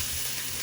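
Butter sizzles in a sauteing pan with a steady, fairly quiet bright hiss that stays even throughout, with no talking.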